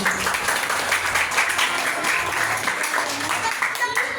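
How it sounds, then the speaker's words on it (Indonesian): Audience applause at a religious gathering for the final day of a pesantren kilat, a steady wash of clapping throughout, mixed with some voices in the room. "Jadi boleh tepuk tangan untuk kakak-kakak Khadijahnya, Ibu."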